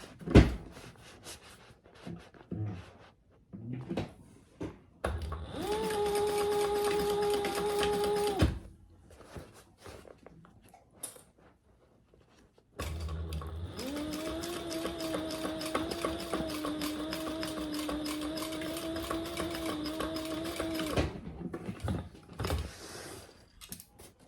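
A sewing machine stitches a bag seam in two steady runs, a short burst and then a longer one of about eight seconds, with quiet handling noises in the pauses.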